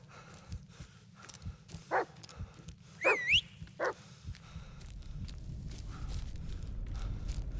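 A dog barks in the video game Blair Witch, a few sharp barks and a rising whimper in quick succession amid a quiet outdoor ambience that swells into a low rumble afterward.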